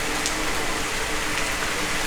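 Steady rain falls in Phuket, Thailand, a continuous even hiss with scattered droplet patter, close and moderately loud, with no voices.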